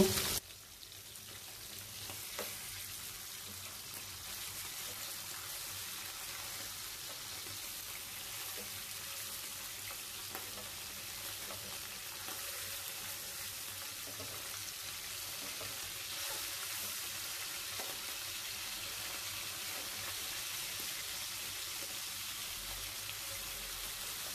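Fish frying in a pan gives a steady, close, crackling sizzle that runs without a break from start to finish, with no talking over it.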